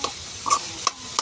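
Tomato, garlic and miso sautéing in a pan: three sharp scraping stirs of a utensil over a soft, steady sizzle, close and fairly quiet, with no voices.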